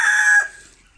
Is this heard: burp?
no